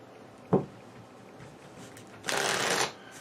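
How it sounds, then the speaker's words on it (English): A deck of cards is riffle shuffled during a tabletop play of the card game Onirim, giving one brief, fairly loud burst of rapid fluttering after a single soft tap, with no talking. "Then deck gets shuffled."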